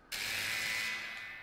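A pistol is loaded in a PlayStation VR shooting range game, heard as a single sharp mechanical ratcheting slide that starts abruptly and sustains, fading slightly toward the end; no talking.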